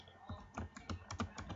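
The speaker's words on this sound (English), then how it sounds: "sorry, guys, for the clicking." Computer keyboard typing during a Block n Load gaming session, a quick, faint, uneven patter of key clicks heard up close with no talk.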